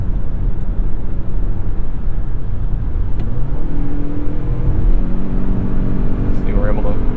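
A 2022 Lexus NX 350h hybrid SUV in sport mode accelerates hard, its engine drone rising steadily in pitch over a constant loud road roar while a person talks throughout.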